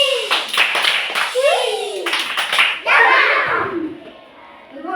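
A group of children clapping a rocket-themed pattern, quick clap bursts followed by rising and falling chanted voices imitating a rocket, close and lively before fading at the end.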